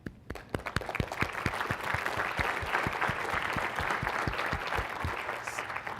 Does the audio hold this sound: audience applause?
yes